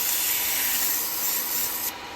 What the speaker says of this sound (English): I'm going to do a little sand on the inside of that.